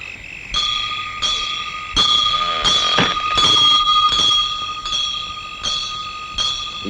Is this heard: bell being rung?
yes